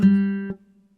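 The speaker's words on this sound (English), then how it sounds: "the nylon guitar from Ilya Efimov in Contact." A single plucked nylon-string guitar note from an Ilya Efimov Kontakt sample library, clear and sustained for about half a second before a second soft pluck and quick decay.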